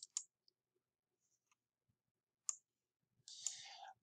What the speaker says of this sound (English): click new order.